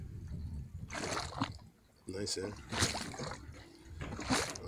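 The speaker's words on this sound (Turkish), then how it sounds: "Sound of the sea." Sea water splashes and laps against the harbor pier at Erdek in several rhythmic surges, fairly close, while someone speaks briefly between the waves.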